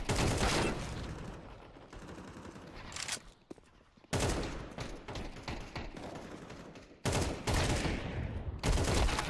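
Rapid gunfire bursts from a shooter video game, including an AWP sniper rifle, loud and close with dense clustered shots, a brief lull near the middle, then renewed volleys.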